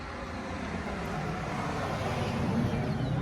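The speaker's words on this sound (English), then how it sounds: "sorry about the traffic noise" Steady road traffic noise drones beside a rural porch, a continuous low rumble of passing vehicles at a moderate distance with no clear individual pass-bys.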